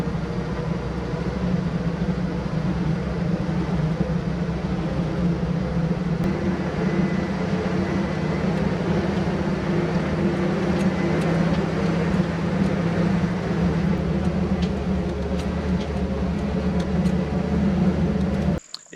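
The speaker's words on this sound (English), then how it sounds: "we loaded the truck down as much as we were comfortable with, and then started down the mountain in 4 low." A heavily loaded truck crawls down a mountain road in four-wheel low, its engine giving a steady low droning rumble with road noise throughout, ending with a brief cutoff.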